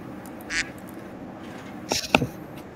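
A person at a tabletop Dungeons & Dragons session imitates a duck quacking with short nasal bursts: one brief quack, a pause, then a louder cluster of quacks near the end, over a quiet room.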